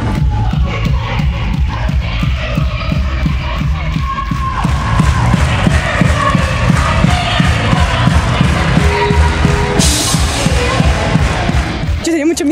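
A large stadium crowd at a rock concert in Plymouth, UK cheers and yells loudly and continuously, a dense roar of many voices with some shuffling and thuds, ending abruptly.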